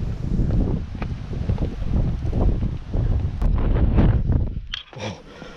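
Wind blowing at Phu Tok in Bueng Kan, Thailand, a gusty, rumbling roar buffeting the microphone with continuous rustling that eases off near the end.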